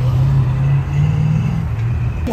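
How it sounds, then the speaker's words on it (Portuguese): A blue Porsche 911 Turbo S pulls away, its engine a loud, steady low drone with a slight dip and rise in pitch, close by and without talk over it. "Olha o 911 Turbo S lá, saindo azul."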